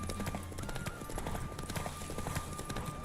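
Rapid hoofbeats of a horse galloping in The Witcher video game, a dense, fast clip-clop rhythm heard close and continuous over a low rushing background, with no voices.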